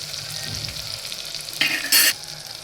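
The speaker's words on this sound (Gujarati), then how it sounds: "અને બટેટાને આપણે થોડી વાર માટે તેલમાં ચડવા દઈશું." Stuffed potatoes cooking in hot oil in a pan, giving a close, steady sizzle and frying crackle with brief louder bursts near the end, with no talking.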